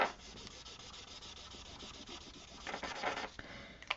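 Sharpie markers rub and scratch across slick Yupo paper while coloring a galaxy background, a steady faint scraping that swells into louder, busier strokes near the end, with no talking.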